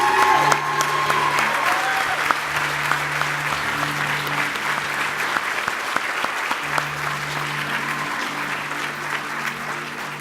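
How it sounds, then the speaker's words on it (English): Sustained applause from a banquet audience at an awards ceremony, a steady roomful of clapping hands holding at an even loud level for the whole stretch, with a faint hum underneath. "Let's give these 9 a round of applause."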